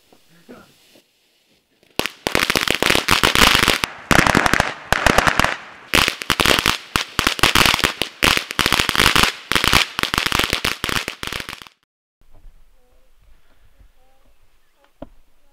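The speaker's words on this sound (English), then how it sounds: "We're definitely going to set fireworks off right out front here." Rapid bursts of Fourth of July firecrackers crackle and pop loudly for about ten seconds in dense volleys, then stop, leaving quiet with faint distant sounds.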